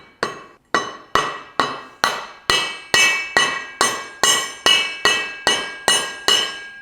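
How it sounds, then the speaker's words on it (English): Hammer tapping a new driveshaft center support bearing into place on a BMW E39 530i Touring, using a cup as a driver: about fifteen evenly spaced, sharp metallic strikes with ringing decay, close and alone. "Give it a few love taps. You're gonna hear the tone change once it bottoms out."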